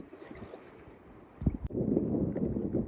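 Strong wind gusts against a boat lying at anchor in a sheltered anchorage on the Atlantic coast of Florida. A soft buffeting is followed by a bump and then loud, sustained blustery roaring, with no voices.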